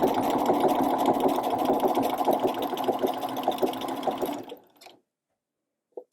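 A sewing machine stitches with a narrow hemmer foot, rattling in a fast, even, loud rhythm for about four and a half seconds before stopping, followed by near silence and a couple of small clicks.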